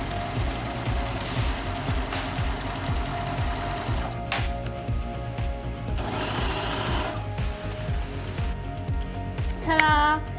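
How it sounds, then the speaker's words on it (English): Sewing machine stitching a seam along vintage denim jeans, a fast steady mechanical chatter that runs continuously with short pauses and a few clicks, close and fairly quiet with no one talking. "I'm going to follow the imprints of the original line and sew down all the way from here to here."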